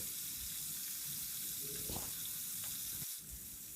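Steady sizzling and crackling of fish lightly frying fills the clip, with a few soft clinks and scrapes from a utensil in the pan.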